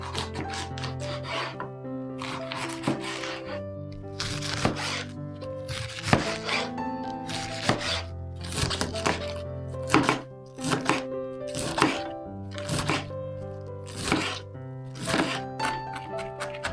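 A knife finely chops a quarter head of cabbage on a board in rhythmic bursts of quick cuts, with steady background music throughout.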